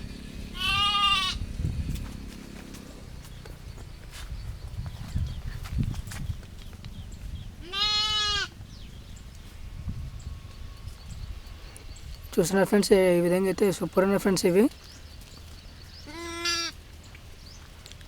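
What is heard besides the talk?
lambs and goats bleating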